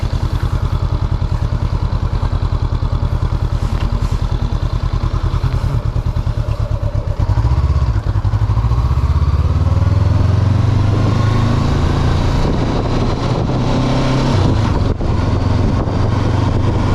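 A Honda CB500F motorcycle pulses loudly and steadily up close as it rides. Partway through, the engine note shifts and climbs as gears change, then settles into a smoother running drone under wind noise, with no speech.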